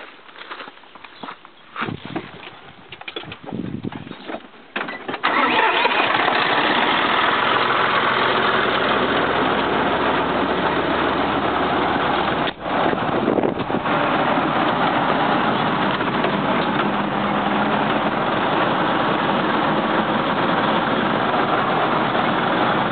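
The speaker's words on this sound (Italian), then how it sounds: "una cimatrice idraulica che abbiamo applicato a un trattore John Deere" A John Deere tractor with a hydraulic vine trimmer runs loudly and steadily nearby in a vineyard, after a few seconds of clattering and mechanical knocks.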